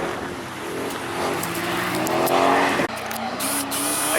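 A stock Nissan 350Z and a stock Corvette in a street legal drift competition rev and roar past, with engine pitch rising and falling, a gear-change dip and a tire squeal, heard from a distance.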